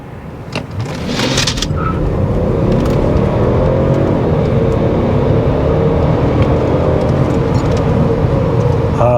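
A 2003 Mercedes S600 W220 with a twin-turbo V12 accelerates hard from inside the cabin, a deep engine roar that swells quickly and holds loud and steady for several seconds, without talk.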